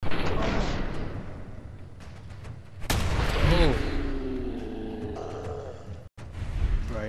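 Shotgun fire in the Fallout 4 video game: several heavy, booming blasts with rumbling tails, loud and close, and a voice grunting or talking between them.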